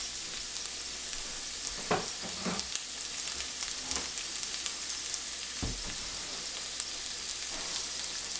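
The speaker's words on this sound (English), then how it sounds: "I am going to use just a little bit of olive oil to sear the pork chops in" Pork chops searing in a little olive oil in a hot pan give a steady, fairly quiet sizzle, with a few louder pops and crackles now and then and no voices.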